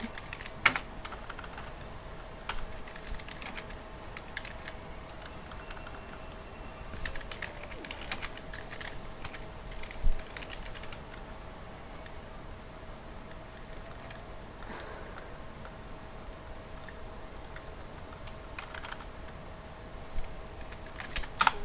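Steady computer keyboard typing throughout, close and moderately quiet, with irregular clicks and a few louder keystrokes, during commentary on a PS4 sim-racing league round at the Hungarian Grand Prix.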